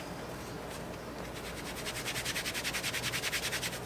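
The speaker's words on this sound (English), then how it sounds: "So, grab the steel wool." Steel wool scrubbed against rusty metal to strip the rust, starting as a soft scratchy rub and settling into steady, rhythmic back-and-forth strokes, close and clear with no talking.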